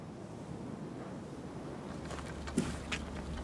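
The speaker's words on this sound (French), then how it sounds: "un invité permanent, le vent" Gusting wind rushes and buffets steadily outdoors on the Marquenterre coast, with a low rumble underneath and a few sharper bursts of air toward the end.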